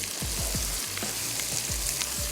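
Meat frying with ground red chilli and coriander for a balti, a strong, close sizzle broken by a regular rhythm of spatula scrapes, roughly two or three per second, with no talking.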